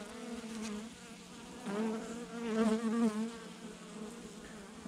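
A honeybee colony buzzing steadily near at hand, a dense continuous drone that swells a little in the middle.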